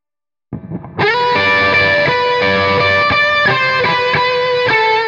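After a brief quiet start, an electric guitar through a Rat distortion pedal combined with a fuzz pedal plays a sustained, saturated lead line, loud and thick with long held notes.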